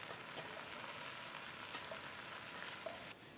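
Mushrooms fry in a pan of oil and butter, a soft, even sizzle that crackles quietly and steadily, then drops off abruptly near the end.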